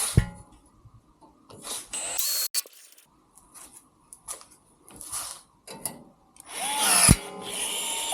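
Close power drill runs in brief spurts with quiet gaps, then a final sustained, louder drilling burst near the end, drilling rivet holes for LED wheel lights.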